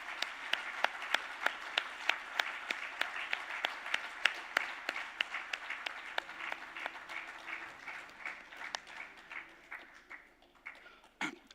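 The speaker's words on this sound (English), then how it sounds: "Can I actually request the entire audience to stand up and give a big applause for this?" A standing conference audience at a maritime conclave in Cochin, India gives a big round of applause, sharp individual claps standing out early before the clapping gradually thins and fades toward the end.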